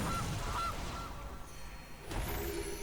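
A goose honk sound effect from the Gilded Goose card in MTG Arena, a short nasal honk sounding twice early, followed by a brighter game chime, all over a steady game-music bed.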